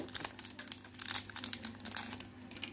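A packet of cheese is torn open close by, with quick, quiet plastic crinkles and rustles coming in irregular bursts while corn-based fishing bait is mixed.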